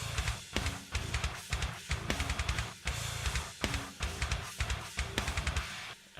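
A demo mix of a rock song plays with distorted guitars panned wide, driven by steady, punchy drum hits in a regular beat at moderate level, with no talking.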